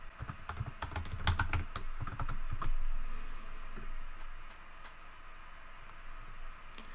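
Quick bursts of keystrokes on a computer keyboard enter a username and password, crisp clicks clustered early before tapering to faint, sparse taps in a quiet room.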